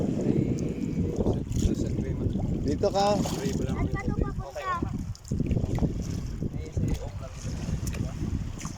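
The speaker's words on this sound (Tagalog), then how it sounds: "dumiretso na po yung bangka guys oh" A boat motoring along on water with steady engine drone and wind rushing past, while people talk over the noise.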